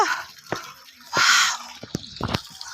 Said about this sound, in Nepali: पानी चुहिरहेको छ